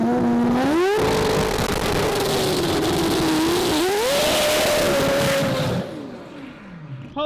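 A car engine on a dyno winds up loudly through a long pull, pitch climbing steadily with a gear-change dip before rising again, then dropping away as the throttle closes near the end.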